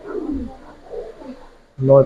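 A young racer pigeon of silver colouring coos softly while being handled, a low murmuring call followed by a louder throaty coo at the end, close by, with a voice speaking nearby.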